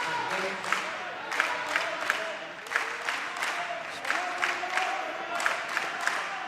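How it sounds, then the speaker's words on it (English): A small crowd at a men's preliminary final cricket match between ACT and Victoria claps in a steady rhythmic pattern for the ACT team, with junior players among the supporters, the claps sharp and repeated over a background murmur. "And the ACT clap is back"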